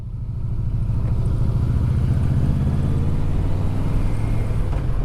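A Yamaha Vmax motorcycle engine rumbles steadily up close while riding downhill through the gears, a low droning throb that holds level throughout.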